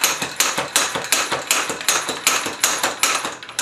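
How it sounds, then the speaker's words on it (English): A wrench hammers at a rubber bicycle handlebar grip, producing about a dozen sharp, close metallic knocks in a quick, fairly even rhythm with no voices. "I just pull this back and forth, and I'm essentially just hammering this off"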